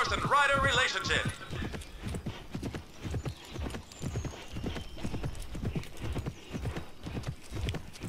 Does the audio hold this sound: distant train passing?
no